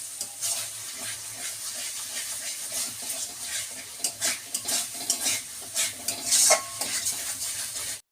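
Katla fish curry with cashew paste is stirred continuously in a pan, a close, busy sizzle layered with rapid spoon scrapes and clinks against the pot, steady throughout with no voices.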